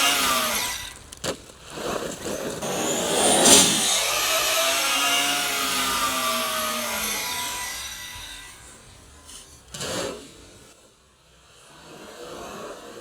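An ARRMA Talion RC car drives over rough terrain, its motor whining loudly and varying in pitch, with gravelly tire noise and bumps, easing off toward the end.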